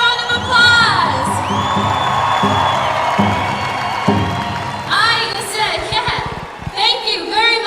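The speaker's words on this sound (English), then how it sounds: "Let's have a round of applause." A large crowd at the Gathering of Nations powwow cheers, whoops and claps loudly, with shrill individual yells rising over sustained applause and voices mixed in.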